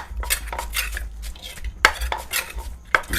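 Fresh shrimp salad for khanom jeen being pounded in a mortar, with sharp, irregular knocks and scraping clatter of pestle and utensils, close and fairly loud.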